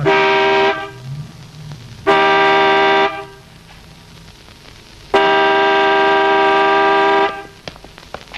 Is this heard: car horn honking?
yes